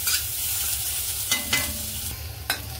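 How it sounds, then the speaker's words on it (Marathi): Onions frying in oil in a kadai, being browned: a continuous sizzle with a few scraping stirs of a spatula against the pan, close and fairly loud, no voices. "हे कांदे आहेत ना, हे चांगले आपण लालसर भाजून घेऊया।"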